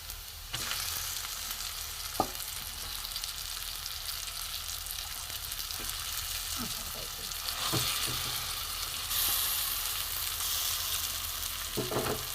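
Onion and green pea paste fry in a pan with a soft, continuous sizzle, broken by occasional scraping clicks of stirring at close range.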